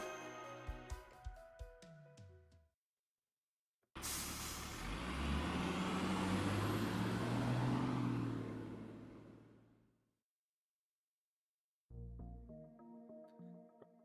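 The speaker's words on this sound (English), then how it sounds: "I feel like we've been on this bus for way too long." A bus in traffic within a video game, a loud rumbling engine pass with an air-brake hiss lasting several seconds, framed by game music and stretches of silence.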